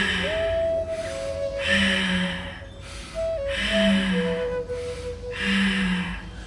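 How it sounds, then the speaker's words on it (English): Deep yoga breathing: three long, slow breaths with audible airy inhalations, close to the microphone, separated by brief quieter gaps over a faint steady background tone. "Inhale, go up."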